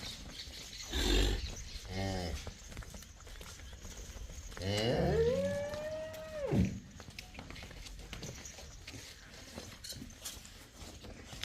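A crossbred dairy cow gives one long, loud moo at a farm among other crossbred cows and heifers. Softer lowing comes before it, with steady barn background noise.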